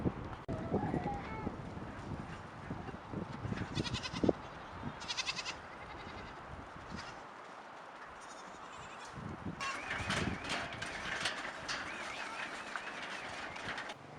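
Rangeland goats held in stockyards during a muster near Enngonia give a few scattered bleats over steady outdoor background noise, with faint voices at times.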